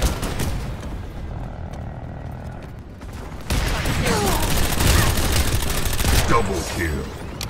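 Rapid bursts of video game gunfire during a multiplayer match, a dense fusillade that grows louder and fuller halfway through, with booming impacts and clattering mechanical sounds layered over a continuous background.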